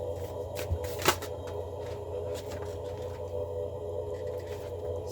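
Tarot cards are shuffled and drawn, soft papery riffles and a few crisp snaps over a steady low background hum.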